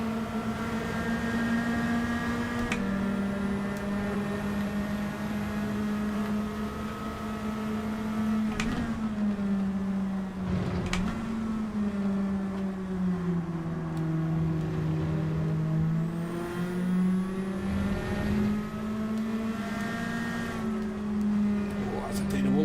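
Nissan Silvia road car from Gran Turismo 7 racing at Suzuka, its engine droning steadily at low RPM, the pitch sagging and rising gently through corners, with a voice talking over it throughout.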